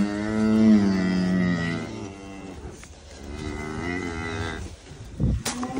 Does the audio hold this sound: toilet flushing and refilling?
no